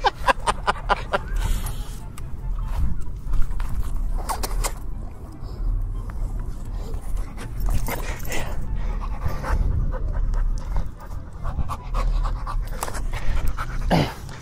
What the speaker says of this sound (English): Come pet the dog.